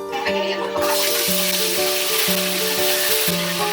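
Tilapia fish frying in a pan, a steady loud sizzle and hiss throughout, with a tonal background hum repeating in a regular pattern underneath.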